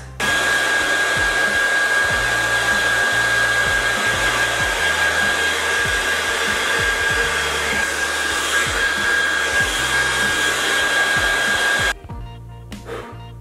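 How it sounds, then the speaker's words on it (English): A hair dryer blows loudly and steadily with a constant whine, running nonstop before cutting off near the end, leaving a quieter tail. "Right, air dryer again."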